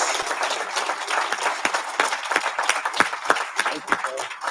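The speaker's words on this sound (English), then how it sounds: "Please give them another big, gigantic round of applause." An audience applauds at a graduation ceremony, a dense patter of many hands clapping at close range, irregular and fairly loud, continuing for several seconds.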